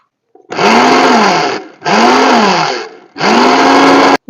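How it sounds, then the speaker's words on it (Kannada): Mixer grinder whirring through flaxseed for chutney in three loud, steady bursts with short pauses between, the motor pitch dipping and recovering as the seeds grind. "ಮಿಕ್ಸಿಗೆ ನಾ ಹಾಕೊತೀನಿ ನೋಡ್ರಿ"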